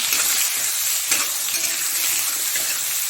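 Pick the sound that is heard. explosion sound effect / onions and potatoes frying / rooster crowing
onions and potatoes frying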